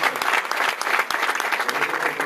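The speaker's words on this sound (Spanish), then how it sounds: "le pido que le dé un fuerte aplauso a Dios" A church congregation gives a loud, sustained round of applause to God, many hands clapping in a dense, even roar that fills the room without pause.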